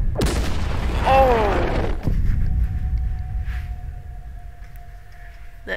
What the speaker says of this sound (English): That was the rocket, some would say.